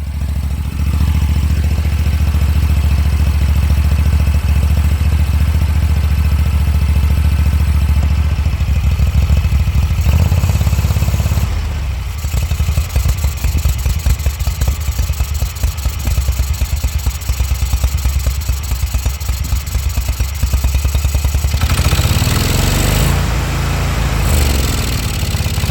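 Engine of a Gravely Z34 zero-turn mower, left sitting two years, runs steadily at close range with a loud, even drone and clattery rumble, lacking power, with a few brief dips and changes in pitch.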